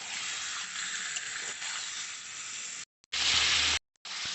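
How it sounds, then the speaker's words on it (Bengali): Chicken pieces frying in a pressure cooker, a steady bright sizzle close by that cuts out briefly, then returns louder for a moment before another short gap. "সেই জন্য একটুখানি ভেজে নিচ্ছি।"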